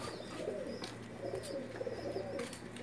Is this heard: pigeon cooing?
yes